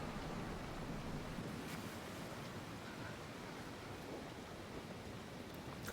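Steady roar of crashing surf and churning ocean water fills the Pillars of Eternity 2: Deadfire scene, a dense, unbroken wash of broadband noise with no voices.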